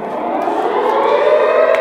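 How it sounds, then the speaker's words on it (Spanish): A nuclear civil defense siren sounds as one loud sustained wail, its tone holding and slowly rising, heard on its own without voices. "Sonido real de sirena nuclear."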